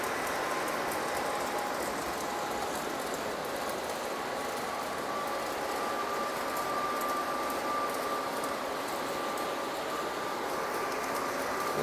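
Model trains run around a home layout with tunnels, a steady, even rumble of wheels on track that stays constant throughout with no talking.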